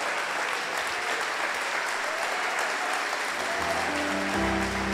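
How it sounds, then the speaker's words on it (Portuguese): A church congregation claps together in sustained applause, steady and full throughout, with a low instrumental tone entering near the end. "Vamos aplaudir ao Senhor."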